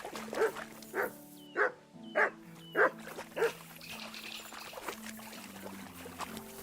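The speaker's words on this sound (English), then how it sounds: "Good dog, Mutt." A dog in Kingdom Come: Deliverance II barks repeatedly in a steady run of five or six sharp barks, close and clear over a low game background, then quieter sounds follow.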